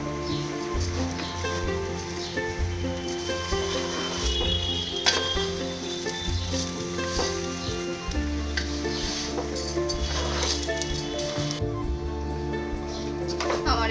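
Rice stir-fried in a pan for Bengali bhuna khichuri, a steady close sizzle with scraping stirring strokes running throughout, mixed with other kitchen sounds and background noise.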